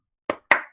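A few hand claps in quick succession, close and dry, greet sports day participants: three separate sharp slaps with short gaps, the second strongest, then silence.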